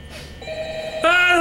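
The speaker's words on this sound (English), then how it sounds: "The phone is ringing!" A telephone rings in the Five Nights at Freddy's video game during a security guard's night shift. A steady electronic ringing tone holds, then a brighter, louder ring cuts in partway through.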